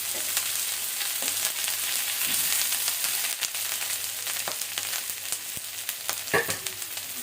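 Vegetables for a mixed bhorta fry together in a pan with a steady, close sizzle and occasional sharper crackles and scrapes, no voices.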